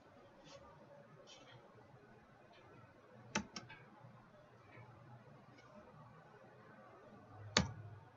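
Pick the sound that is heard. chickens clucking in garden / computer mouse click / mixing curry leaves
computer mouse click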